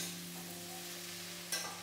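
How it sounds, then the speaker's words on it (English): Okra (bhindi) frying in a pan, a soft even sizzle over a low electrical hum, then one short scrape of a spoon along the bottom near the end. "Keep scraping from the bottom and stirring bhindi every 3 to 4 minutes"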